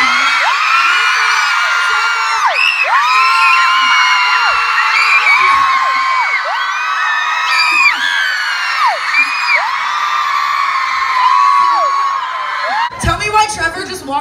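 A concert crowd in Portland cheers loudly, with sustained high whoops and yells layered over a roaring mass of voices for many seconds before a sharp burst of noise at the end.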